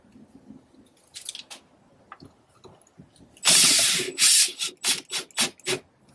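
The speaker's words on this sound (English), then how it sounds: "taking my drill with my self-tapping screw" A quiet rubbing start, then a loud whirring power drill runs in a long burst followed by several short, rhythmic pulses as a self-tapping screw is driven while installing a mount.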